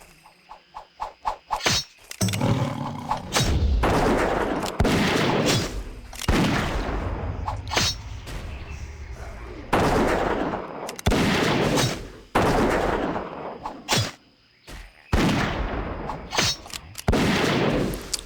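A rifle fires in the WoW Classic video game, letting off loud, sharp shots in irregular bursts, each followed by a ringing, noisy tail, with quick clicks at the start.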